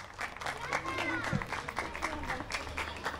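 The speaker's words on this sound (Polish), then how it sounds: "to brawa dla niej. Wielkie brawa." Audience applause at an outdoor parish fair as a woman is called on stage, steady moderate clapping with crowd noise and some voices mixed in.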